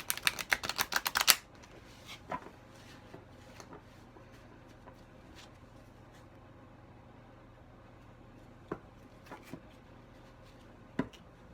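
A brand-new tarot deck fresh out of the box is riffle-shuffled in a quick burst of crisp rapid card flicks, then a few scattered soft taps and card clicks follow in a quiet room.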